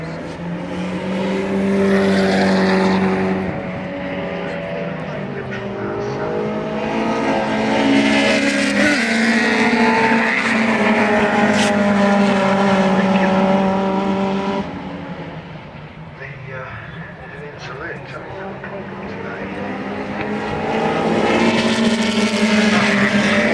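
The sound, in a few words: race cars on track, including Mercedes number 8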